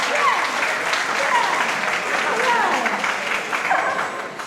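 An audience at a wind ensemble concert breaks into sustained applause, dense clapping with a few cheers, loud and close, tapering slightly at the end.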